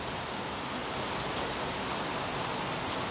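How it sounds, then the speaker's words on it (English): Steady rain patters and drips continuously inside a run-in shelter with a new roof, a soft, even hiss with no voices. "Sounds different in here with all the dripping and the rain."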